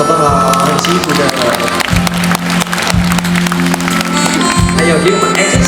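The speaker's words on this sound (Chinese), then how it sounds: "我们所有的医护人员一个掌声，好不好？" Audience applause and cheering for medical staff at a charity care concert at Chang Gung hospital in Kaohsiung, steady crowd clapping throughout with a music backing underneath.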